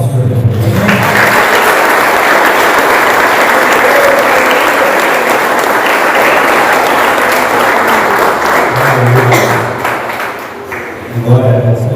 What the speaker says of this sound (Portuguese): Vamos receber com as palmas do Senhor Jesus.